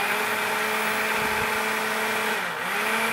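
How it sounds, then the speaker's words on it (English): A blender whirs steadily and loudly, puréeing a low-calorie leek and asparagus soup, its motor holding a constant drone with a brief dip in pitch near the end, and no voices. "and then we're just going to blend it"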